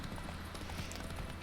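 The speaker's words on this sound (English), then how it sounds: "She's not a good horse." Roach, the horse in the video game The Witcher 3, trotting with a steady, close clip-clop of hooves under a constant game background noise.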